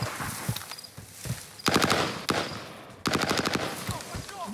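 MP40 submachine gun fired in Warzone, two sharp rapid-fire bursts of close, loud automatic shots separated by a short pause, with quieter scattered shots and game noise around them.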